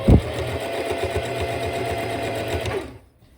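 A sewing machine runs steadily, stitching close to the edge of a white bleached-cotton dish towel while making decorative tucks. A sharp thump opens the continuous whir, which carries on for about three seconds and then cuts off to near silence.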